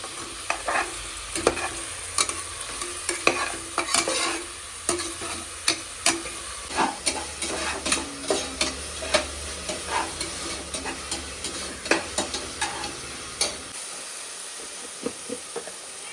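Chopped onions sizzle and crackle in a hot pan with added salt, with steady frying hiss and repeated sharp scraping clicks as they are stirred, close and continuous with no talk.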